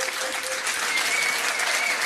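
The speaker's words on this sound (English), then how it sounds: "Let's have a big round of applause for last week's winners." A pub trivia quiz audience applauds last week's quiz winners, a loud, steady burst of clapping from a close crowd that fills the whole short stretch without a break.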